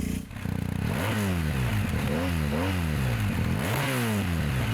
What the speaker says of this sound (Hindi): और वो है एग्जॉस्ट नोट। सुनिए ज़रा ध्यान से।